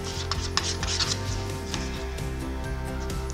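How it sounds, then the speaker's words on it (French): Palette knife held at a 30 degree angle spreading thick material across a surface, repeated close scraping and rubbing strokes in an uneven rhythm, with no speech over them. "Je vous rappelle au couteau comment j'applique la matière"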